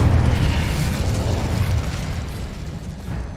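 The Incendio fire spell is cast in the wizarding game Hogwarts Legacy, a loud roaring whoosh of flame that bursts at once and slowly fades over a few seconds.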